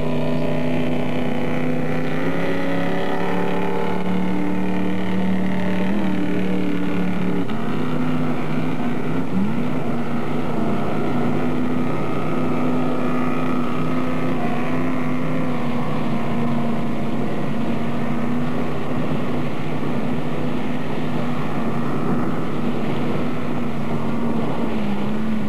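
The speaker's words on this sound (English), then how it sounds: "This is the initial run of the boat." Rebuilt motorboat, about jet-ski size, on its first run: a loud, steady engine drone holding for the whole stretch, with a brief dip in pitch partway through, and no talk.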